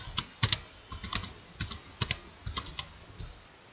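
Someone types an email address on a computer keyboard. The keys give crisp, close clicks in uneven bursts, with short pauses between groups of strokes.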